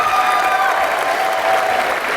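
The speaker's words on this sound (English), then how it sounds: "Big round of applause for Jason." A theater audience claps loudly and steadily for a volunteer named Jason at a card magic show, dense continuous applause from a crowd filling the room.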